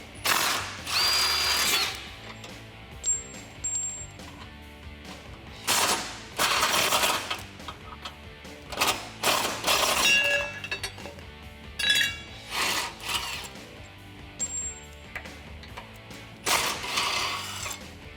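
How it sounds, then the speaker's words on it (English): Impact wrench with an 18mm socket removing bolts from a Jeep Wrangler JL rear bumper, loud close bursts of hammering rattle in repeated short runs, separated by pauses with faint metallic clinks. "Now I'm going to be using an 18mm socket in my impact wrench."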